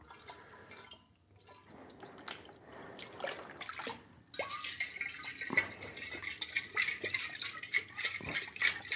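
Water drips and trickles while a mead bottle is sanitized, quiet irregular plinks and splashes, with a brief gap before a denser, steadier patter of small drips and liquid movement.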